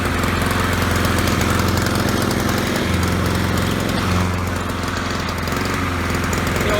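A lawn mower engine sputters with its fuel shut off, a loud, close, rough drone with rapid uneven pulsing that runs continuously and falters slightly partway through.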